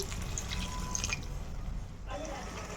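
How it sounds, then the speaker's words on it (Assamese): A glass of water is poured into a pan of frying fish, a brief rushing splash and trickle that fades before a soft bubbling resumes. "এগিলাচ পানী দিলোঁ।"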